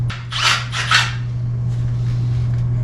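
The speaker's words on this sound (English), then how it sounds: "let me see if I got another drill" A Milwaukee 12-volt cordless drill whines at a steady pitch while the bit grinds into metal on a Willys lowrider build, with two harsh rasping surges early on before settling into a constant drone.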